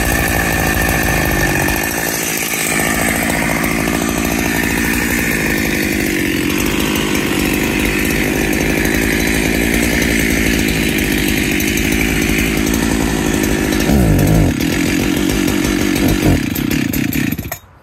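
A Husqvarna 365SP chainsaw with its original cylinder and piston, freshly tuned, saws through dry oak: a loud, close, sustained high-revving engine snarl for about seventeen seconds, with a brief pitch shift near the end before it cuts off abruptly.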